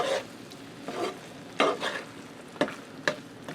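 Chopped fresh basil and parsley are stirred into a hot, sizzling pan, with a few distinct scraping strokes at an uneven rhythm over a soft, steady fry, close and fairly quiet.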